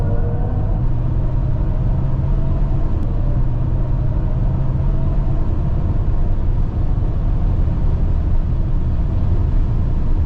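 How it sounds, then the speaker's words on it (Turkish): A BMW iX electric car driven hard, giving a steady broadband road and wind roar with low hum throughout, continuous and fairly loud, with no distinct engine note. "Birazcık performanslı sürüş yapalım."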